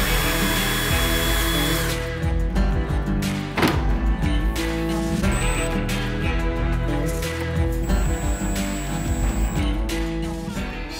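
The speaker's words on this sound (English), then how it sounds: "Let's put this in a drill," A power drill driving in screws and drilling holes to mount kitchen cabinet door handles, with a dense, busy whir and clatter that sounds close and fairly loud, broken by short pauses and knocks.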